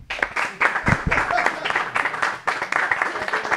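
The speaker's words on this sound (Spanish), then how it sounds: "Un aplauso." A studio audience at a show breaks into brief applause, several uneven bursts of clapping from a small crowd, moderately close, with a little talk mixed in.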